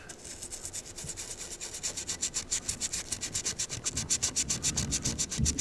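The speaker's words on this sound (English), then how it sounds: "Clean the deck with some alcohol." A cloth rubs alcohol over the aluminum-looking chassis deck of a Fada 1000 Bullet radio, a quick rhythmic back-and-forth scrubbing, faint and close, with no talk.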